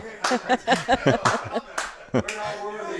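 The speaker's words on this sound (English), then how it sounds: "Sean stands up and is clapping" A man in a pool hall claps a handful of times in quick bursts, close and sharp, mixed with chuckles and talk.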